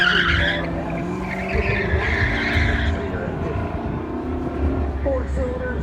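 A 600-horsepower Camaro races a four-cylinder turbo Ford around an autocross course at a Goodguys car show in Del Mar, engines roaring and tires skidding continuously at close range, with voices talking over the din.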